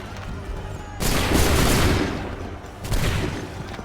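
A line of muskets fires a volley in Assassin's Creed 3: a loud, broad crash of gunfire rolls out and fades, then a second ragged burst follows nearby.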